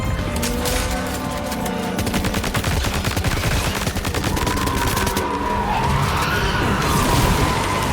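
Sustained rapid gunfire in Death Stranding 2, dense fusillade bursts layered with mechanical noise and a rising whine near the end, loud and continuous with no talking.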